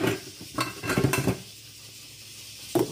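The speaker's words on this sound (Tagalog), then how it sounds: "Takpan na natin." A metal lid set onto a cooking pot of saluyot paksiw in a home kitchen, producing a few close clanks and rattles, then quiet background with one more clink at the end.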